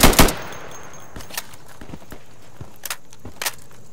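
Gunfire in the tactical shooter game Insurgency: a loud close burst opens, followed by sparse single shots and short distant cracks spread across the rest, with faint footsteps between.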